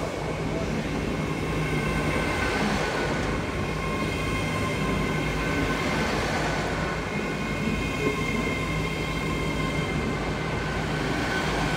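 A double IET train at Exeter St Davids station gives a steady, moderately loud rumble with a faint hum and wheel noise as it sits or moves along the platform.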